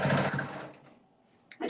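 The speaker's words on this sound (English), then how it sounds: "I do back stitch over that elastic so it doesn't pull out" A sewing machine back-stitches over elastic on an embroidered fabric mask, a close, busy whir for under a second that fades, then a brief restart of the motor at the end.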